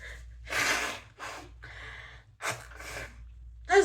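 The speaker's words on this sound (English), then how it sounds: "I gotta blow my nose." A few forceful nasal blasts and snorts, close and fairly loud, separated by short pauses, with breathy sniffing between them.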